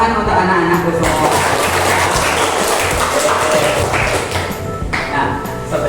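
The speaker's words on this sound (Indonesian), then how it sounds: "Tepuk tangan untuk anak-anak semua" Children applauding in a classroom during an elementary lesson, a dense, steady patter of many hands clapping close by for the whole stretch, with some voices mixed in.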